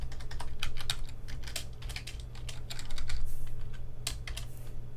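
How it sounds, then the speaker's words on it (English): Code being typed on a computer keyboard: a steady run of close, crisp key clicks at an uneven pace, set over a low electrical hum, with no talking. "And then we type case Fred and a colon after that."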